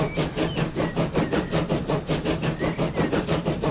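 A train runs in the railway simulation game Transport Fever 2, with a steady rhythmic clatter of wheels over rail joints repeating several times a second, plus a faint hiss and engine hum, continuous and fairly close with no talking.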